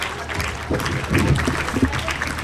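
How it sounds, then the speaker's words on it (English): An audience at a school speech competition claps to welcome a guest onto the stage. The applause is a short, dense burst of many hands, swelling midway and then easing off. "I will welcome you in the thunder of claps"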